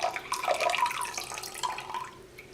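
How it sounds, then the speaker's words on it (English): Lukewarm water is poured from a jug into a mixing bowl set on a kitchen scale for a sourdough loaf, a short close splashing and trickling that runs steadily for a couple of seconds before tapering off. "To that I'm going to add water, lukewarm, 275."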